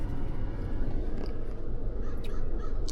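Outdoors, a crow caws a few times at middle distance over a low, steady background rumble, with no talk over it.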